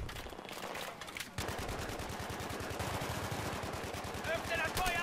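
Rapid automatic gunfire fills a Battlefield 3 co-op match, sustained bursts of sharp, close shots hammering continuously with players talking over the shooting.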